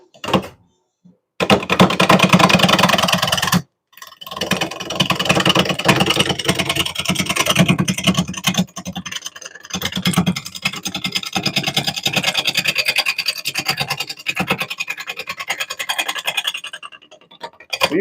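Wood lathe turning a semi-soft wood bowl on a faceplate, with a long steady scraping and rasping of the tool against the spinning wood, broken by short pauses, close and loud throughout.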